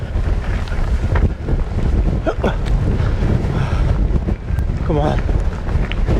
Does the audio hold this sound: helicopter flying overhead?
no